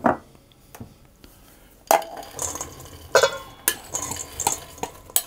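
Mixed peel and other ingredients for a Scottish black bun being tipped into a mixing bowl, clinks and soft rattling scrapes of a spoon against the bowl, close and fairly loud.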